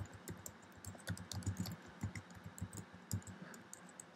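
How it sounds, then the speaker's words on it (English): Quiet, steady tapping of computer keyboard keys in an irregular typing rhythm, fairly close, with no voices. "Speaking and typing at the same time"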